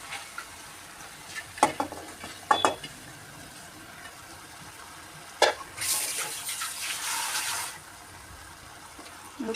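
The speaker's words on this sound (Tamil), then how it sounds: "ஓகே ஃப்ரெண்ட்ஸ், இப்போ நம்ம சிக்கன் பீஸை இதில் போட்டுக்கலாம்." Chicken pieces go into a pan of gravy masala and get stirred, making a few sharp clatters and scrapes of utensil on pan followed by a burst of wet sizzling that fades out.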